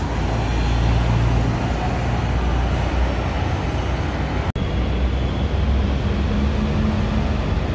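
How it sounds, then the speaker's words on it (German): A VDL Berkhof bus pulls into a station amid a steady roar of engine and road noise, heard close and loud with one abrupt brief dropout midway. "Und da kommt auch schon der nächste. Auch ein VDL Berghoff."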